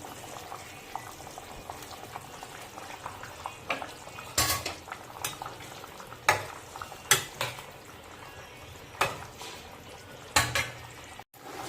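An egg curry simmers and bubbles quietly in a pot while eggs go into it. Sharp clinks of a utensil against the pot break in at irregular moments, and there is no talk.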